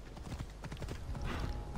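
Horse hooves clip-clopping in the video game Assassin's Creed Odyssey, a steady quick run of close hoof beats on the ground with a faint whinny.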